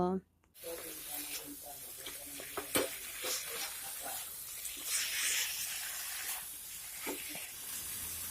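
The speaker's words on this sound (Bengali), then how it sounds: "এখন আমি শাকের সঙ্গে সবজিগুলি ভালোভাবে মিশিয়ে নেব" Spinach and fried vegetables stirred together in a hot pan hiss and sizzle steadily, with scattered scraping clicks of the spoon, after a brief voice and pause at the start.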